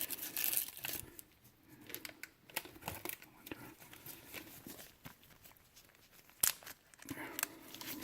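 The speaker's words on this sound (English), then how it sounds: "just going to put them in a plastic bag for now." Plastic bag crinkles and rustles up close during a Seiko SNZG13 watch mod, with irregular crackly bursts and small handling clicks, fairly quiet and unaccompanied by talk.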